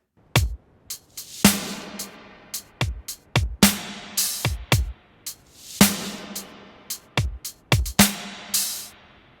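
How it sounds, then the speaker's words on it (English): A sparse percussion groove of kicks and clicks punctuated by big Kong kit snare hits that bloom into long, washy reverb tails. "heavily reverbed snares from that Kong kit"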